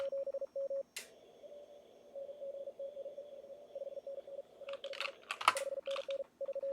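Rapid Morse code call-sign tones keyed in short bursts during an amateur radio contest, with a fainter distant reply beneath a long steady tone and some crackling static.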